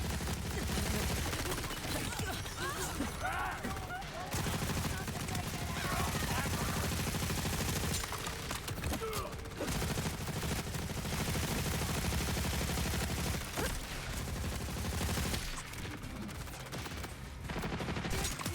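Automatic turret gunfire in Borderlands, a loud, dense, continuous stream of rapid shots and impacts that barely lets up, with a few brief dips and occasional speech mixed into the din.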